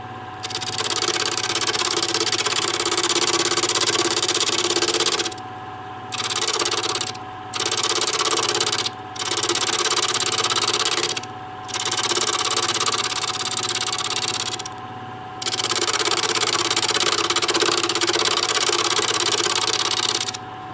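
Wood lathe turning while a sharp tipped skew chisel cuts, giving a loud, steady hissing scrape in long passes broken by short pauses over a constant motor hum.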